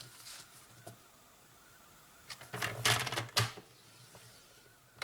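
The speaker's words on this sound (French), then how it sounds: "Avec donc notre outil le plus clair, nous allons venir marquer des plis" A creasing tool scores fold lines into paper, giving a few quick scraping and tapping strokes in a quiet room, clustered near the middle of a mostly hushed stretch.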